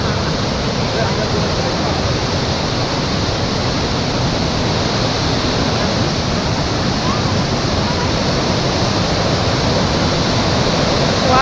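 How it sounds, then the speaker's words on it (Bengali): Water pours down a waterfall at Dumbur in a loud, unbroken roar, a dense rushing wash that fills the whole scene at close range. "দেখো ঝর্ণার জলের কি একটা আওয়াজ শোনা যাচ্ছে"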